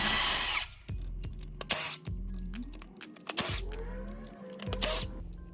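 A power drill whirs in short bursts, spinning up and winding down several times, as it backs out four 8mm bolts on the fuel rail of a 2011-2014 Mustang 3.7 V6. Close and loud, no talking.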